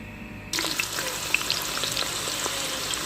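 Potato chips dropped into hot oil start sizzling abruptly, a bright dense crackle with scattered pops that holds steady and close, no voices.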